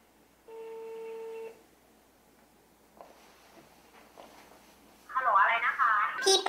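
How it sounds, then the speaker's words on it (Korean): A single steady ringback tone sounds as a call is placed to a restaurant. The line then goes quiet with faint hiss before a voice starts talking over the phone. "그가 운영하는 레스토랑에 전화해봤습니다."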